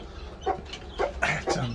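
A wild hen murmurs soft, low clucks to her newly hatched chicks, a few short separate calls spaced irregularly, close and fairly quiet.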